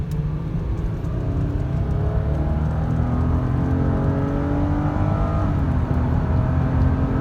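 A 2010 Lexus ES 350 accelerating on a freeway, heard from inside the cabin as a loud, steady engine drone climbing in pitch over constant road and tyre roar.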